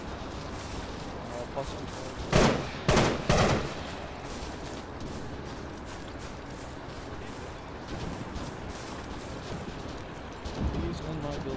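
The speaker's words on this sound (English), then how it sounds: "it looks like we're taking fire from northeast somewhere, or east, up the hill" Three sharp, loud gunshots crack in quick succession in Arma 3, followed by fainter distant fire under steady radio chatter from players talking throughout.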